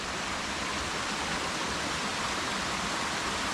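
Waterfall at Nanperial in Sri Lanka, a steady dense roar of rushing water, continuous and close, with no other sounds.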